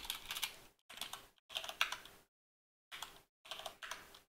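Password being typed on a computer keyboard: quick clusters of light, close key clicks in several short bursts separated by silent pauses, with no talking.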